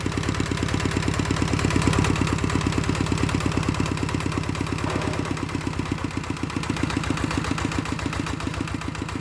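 An engine used to drive a water pump, running steadily at close range with an even, rapid mechanical chugging and a slight drop in pitch partway through.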